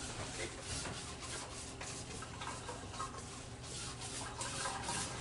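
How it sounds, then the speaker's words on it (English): High gloss varnish being scrubbed with a brush onto an acrylic pour painting: a steady, close, raspy rubbing and bristle scratching that continues without a break, with no talking. "So I'm basically just making sure I get every bit. I'm kind of scrubbing it in on the first coat."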